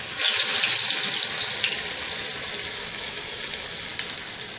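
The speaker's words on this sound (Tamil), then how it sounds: "இப்போ எண்ணெய் காஞ்செடுத்து நம்ம வடையை போட்டுடலாம்." Steady, loud sizzling and crackling of medu vada, urad dal fritters, deep frying in hot oil, a continuous hiss throughout.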